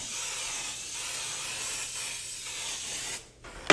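Canola oil cooking spray hisses steadily into a pan in one long close burst, then cuts off briefly before a short final spritz.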